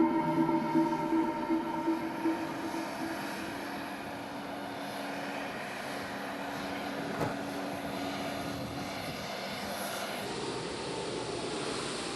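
An aircraft takes off in a rushed emergency departure, its engine roar filling the scene as a steady, loud drone that gradually shifts in pitch as the plane climbs, with no talking.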